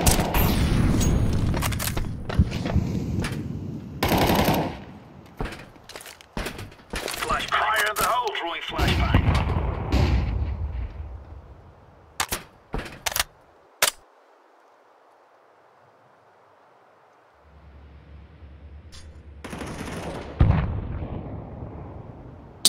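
Explosions and gunfire from Counter-Strike 2: sharp bursts of shots and booms crowd the opening seconds, then a quieter stretch with a few isolated cracks, a low hiss and a final heavy blast near the end.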